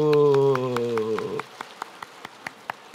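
A sustained, tonal voice holds a note at a Korean church service, then gives way to sparse, evenly spaced claps from the congregation, each sharp and distinct with quiet gaps between.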